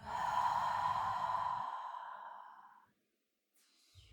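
A long, deep exhale through the mouth during a vinyasa yoga breathing cue: a breathy, airy rush that holds steady for about two seconds and then fades into near silence.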